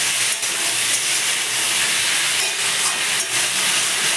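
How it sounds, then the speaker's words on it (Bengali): Spice paste frying hard in a pan for a hilsa curry, a loud, constant hissing sizzle with brief flares of spatter, heard close and alone without talk. "ভালো করে কষিয়ে দিতে হবে মশলাটা।"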